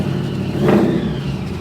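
A car engine revs up as the vehicle pulls away, a brief swell of mid-pitched engine noise rising and then easing back to a steady hum.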